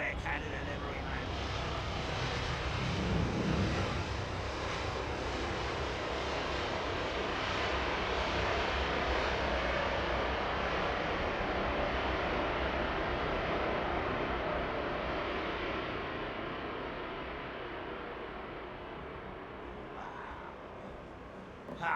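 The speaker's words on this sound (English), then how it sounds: "did you hear that faint background sound of the props, the turbo props?" Turboprop airliner propellers during touchdown, a broad, steady engine roar that swells early, holds through the landing and eases off toward the end.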